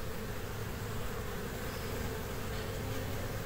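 Honeybees bringing in pollen, making a dense, continuous buzzing hum with no breaks and no talk, close and steady throughout.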